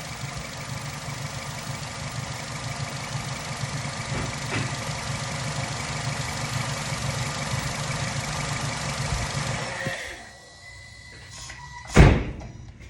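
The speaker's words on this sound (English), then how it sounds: "I'm gonna shut the vehicle off." The engine of a 2013 Nissan Rogue idles with a steady, even rumble and hum for about ten seconds, then is shut off and the sound drops away. A single sharp thump, like a door or hood closing, follows shortly after in the quieter space.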